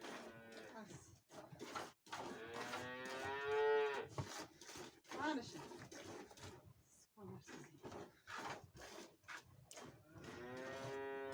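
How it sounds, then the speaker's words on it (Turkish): A cow moos loudly during hand milking in a Turkish village, deep drawn-out lowing repeated several times amid close conversation and clattering sounds. "Dur inek."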